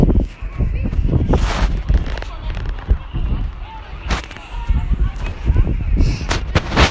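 Loud booming bomb blasts in a video game, several heavy bursts with sharp broadband cracks amid continuous rumbling chaos and game sound effects.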